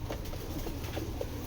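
Soft cooing from a foreign racing pigeon, a few faint low calls rising out of steady background noise, with no talking over them.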